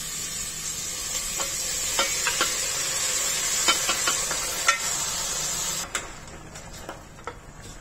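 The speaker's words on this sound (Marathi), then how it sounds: "आता ह्यामध्ये आपण जे मटण हळद आणि मीठ लावून ठेवलेलं होतं ते घालून घ्यायचंय" Mutton rubbed with turmeric and salt sizzles in a hot pan, a loud continuous hiss with scattered clinks and scrapes of stirring, which tails off into quieter stirring near the end.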